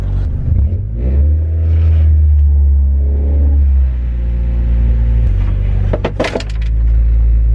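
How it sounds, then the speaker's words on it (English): A Honda Civic rumbles and revs as it pulls hard on a subwoofer cable tied to it, loud engine drone followed by scraping and a sharp clattering rip near the end. "I just tied it to a big heavy vehicle, and I'm just gonna rip it out"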